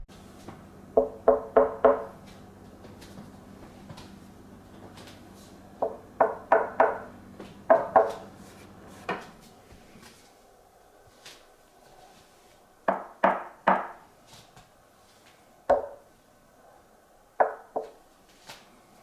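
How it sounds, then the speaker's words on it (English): Knuckles rap on the MDF cabinet of a REL HT 1205 subwoofer in quick clusters of three or four hollow, woody knocks, close and clear with quiet pauses between groups, plus a low hum early on. "Now let's do the knock test on the cabinet."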